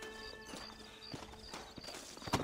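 Horses in Red Dead Redemption clip-clop in an uneven, steady rhythm of hoof strikes over a backdrop of game music, moderately close, ending with a sharper thud.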